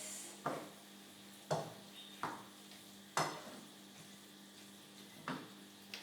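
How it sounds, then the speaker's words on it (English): Tempeh and rice noodles stirred in a pan, with six soft scraping clacks spaced about a second apart over a faint background hum, heard alone and fairly quiet. "Give it another stir."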